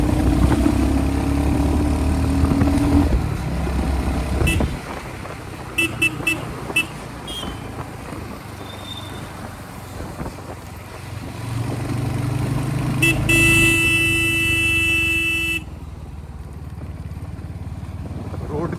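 Motorbike ridden along a village road in rural Bihar, its engine droning steadily up close with wind noise, a few horn toots along the way, while the rider talks over it.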